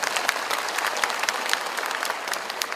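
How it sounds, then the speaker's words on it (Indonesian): Dense audience applause fills a thanksgiving celebration marking forty years of a boarding school for orphans, a continuous close wash of many hands clapping. "Kita boleh tepuk tangan."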